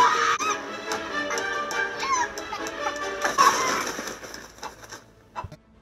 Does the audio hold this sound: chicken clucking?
yes